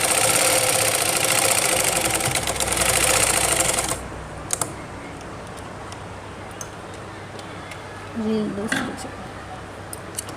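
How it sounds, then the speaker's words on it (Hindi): A sewing machine runs in a steady fast rattle while stitching lace onto a suit, then stops; a voice talks throughout, with brief clicks afterward. "जहाँ तक हमें मोड़ना है वहाँ तक हम सीधी सिलाई लगा लेंगे।"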